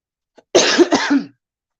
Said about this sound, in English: I still got my COVID cough, so y'all bear with me